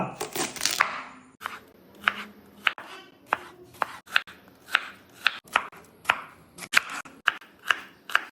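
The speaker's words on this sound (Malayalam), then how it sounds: "മഞ്ഞ വത്തക്കി ഇറാനി വത്തക്കി ആപ്പിളും ചെറിയ പീസുകളാക്കി റെഡിയാക്കിയിട്ടുണ്ട്" A knife chops yellow watermelon, Irani watermelon and apple into small pieces on a board, with crisp, close cuts in a steady, even rhythm after a brief rustle at the start.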